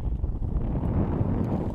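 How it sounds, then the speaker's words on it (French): Strong wind buffets a GoPro microphone aboard a cruising sailboat, a steady, loud low-pitched rumble and roar that continues without pause. "Je suis sûr que vous le sentez là dans la GoPro, ça doit pas arrêter de souffler."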